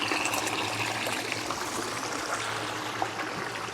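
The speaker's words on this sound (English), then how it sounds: "Of course, the beautiful waterfall." A garden waterfall splashes and trickles steadily over rocks, a constant close babbling with no voices.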